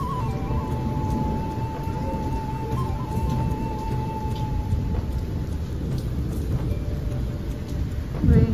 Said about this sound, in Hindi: बस बारिश आ रही है